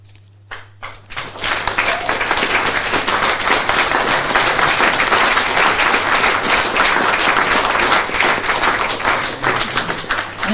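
An audience applauds after poems at a reading event. The clapping starts with a few scattered claps, swells into steady, dense applause that lasts about ten seconds, and then begins to taper off.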